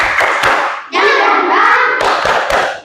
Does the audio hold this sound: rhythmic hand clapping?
yes